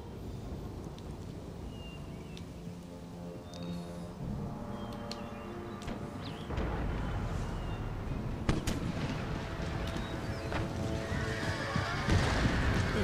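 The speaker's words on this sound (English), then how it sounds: "Cannons will fire." Cannon artillery fire in an Empire: Total War American Revolution mod battle, with distant booming shots building over a low rumbling battlefield din, growing louder and denser toward the end.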